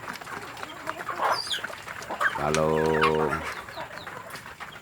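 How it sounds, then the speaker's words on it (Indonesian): Free-range village chicks chirp and cheep in scattered bursts close by, alongside hen-like clucking and a longer, louder call in the middle, with a brief spoken word underneath. "setiap hari kita selalu memenuhi kecukupan makan untuk anak ayam kampung kita"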